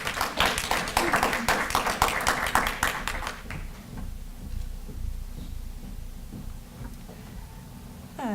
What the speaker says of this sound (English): so give her a round of applause as she comes up.